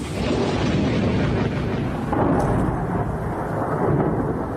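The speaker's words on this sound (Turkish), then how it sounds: "sağanak yağmura ardı ardına patlayan şimşekler eşlik etti." Deep rolling thunder rumbles over the loud, steady roar of heavy rain in Şanlıurfa, Turkey, swelling again partway through.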